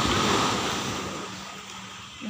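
Sea waves wash onto a beach in the morning, a close, broad rush of surf with wind noise buffeting the microphone, easing slightly partway through.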